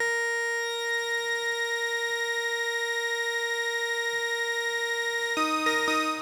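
Synthesizer patch built on an analog-style synth, with oscillator one raised an octave and a detuned second oscillator, sustaining a steady harmonic-rich tone alone, then shifting into a brief stepped run of new pitches near the end.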